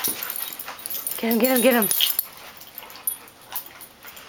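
Two dogs wrestle, giving high whimpering yips and scuffling noises close by, while a person urges them on over the play.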